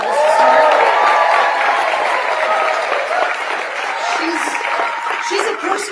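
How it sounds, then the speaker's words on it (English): A large crowd at a Harris campaign rally in Pennsylvania applauding, a loud, sustained wash of clapping with cheering and voices mixed in throughout. "I think we could give her a round of applause right now just to start."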